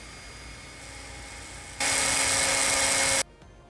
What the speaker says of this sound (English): I'm just smoothing up the tire with my Dremel